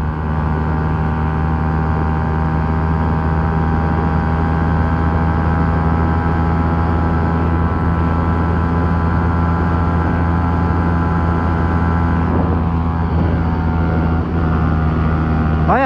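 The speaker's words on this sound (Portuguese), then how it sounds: "a moto quase estourando" A Titan motorcycle engine runs near its limit at around 120 km/h, a loud, steady high-revving drone with a constant buzzing pitch throughout and no talk over it.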